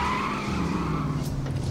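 Tires screech in a continuous skid from a car in the video game The Saboteur, a loud, sustained squeal that holds steady for under two seconds, heard alone.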